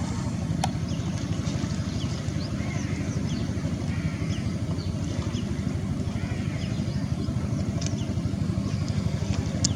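A fishing boat, likely a wooden motor vessel, approaches across open water near a border fishing area, its engine a steady low throbbing drone with wind and water noise, continuous and even throughout.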